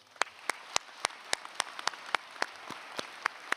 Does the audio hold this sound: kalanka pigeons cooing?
no